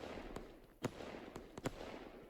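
Firework cake breaks in the Fireworks Mania video game: several sharp, loud pops at irregular intervals, with two strongest cracks standing out over a steady crackling, hissing background.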